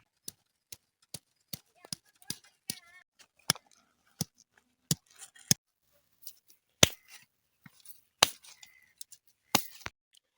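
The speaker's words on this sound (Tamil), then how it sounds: "இஞ்சியை வந்து தட்டி இதுக்குள்ளே நம்ம அப்படியே உள்ளே ஆட் பண்ணிக்கலாம்" Ginger is pounded with sharp, distinct thuds, first in an even steady rhythm and then in more irregular strikes, close and clear in a quiet village kitchen.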